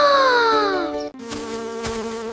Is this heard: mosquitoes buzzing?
yes